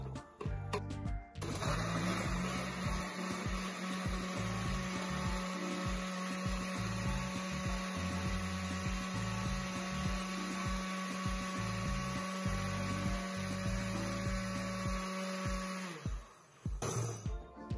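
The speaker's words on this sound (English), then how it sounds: "But first I'm gonna go ahead and blend my mango." A blender whirs mango pieces in one long, steady, loud motor drone, starting and stopping with a few clunks at either end.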